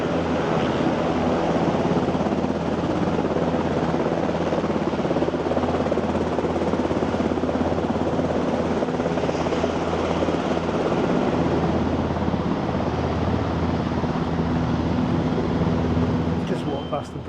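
A helicopter near the Bristow terminal at Aberdeen airport gives a steady, loud droning whir that fills the whole stretch, with someone talking over it.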